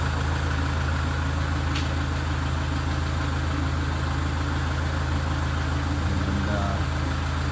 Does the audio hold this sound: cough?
no